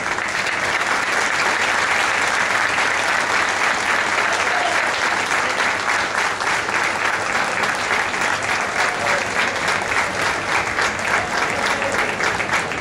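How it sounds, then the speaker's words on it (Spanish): Sustained applause from a large crowd at the Candela 2017 awards ceremony, dense steady clapping that fills the whole stretch without a break. "porque están aplaudiendo a una buena persona"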